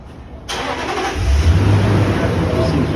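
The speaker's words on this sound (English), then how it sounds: "he just keeps smashing his car into the wall, trying to back up" A truck engine catches and revs hard after a sudden loud onset, a strained low roar building and holding as the drunk driver rams it against a building wall.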